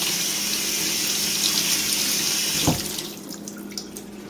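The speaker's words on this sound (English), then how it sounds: "And just a slight rinse to get some of those chemicals out." Tap water runs steadily into a sink while something is given a slight rinse, close and continuous, then cuts off near the end with a few drips and clinks.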